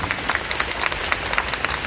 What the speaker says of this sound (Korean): 우리 이제 박수를 칩시다